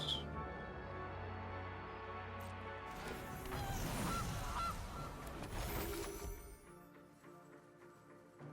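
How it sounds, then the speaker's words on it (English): The Gilded Goose card in the MTG Arena video game plays a honking goose call with a crash-like game effect, a busy burst in the middle that fades to quieter music. "Gilded Goose."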